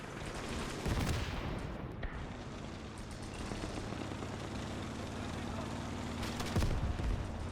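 Mortar and gunfire in the Gates of Hell war game, a dense continuous battle din with sharp blasts near the start and end and a steady mechanical rumble underneath, with no talking.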